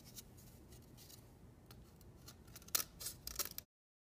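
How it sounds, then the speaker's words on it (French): Sharp scissors snip around the edge of a plaster bandage mask, quiet close cuts building to a few crisper snaps before the sound stops abruptly. "Je vais utiliser un bon ciseau pour pouvoir couper"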